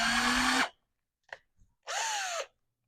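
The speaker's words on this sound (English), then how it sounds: "It also helps if your drill's going the right way when you start it up." A power drill boring into a stainless steel exhaust pipe whirs in two bursts, the motor pitch dipping under load, separated by a brief pause with a few small clicks.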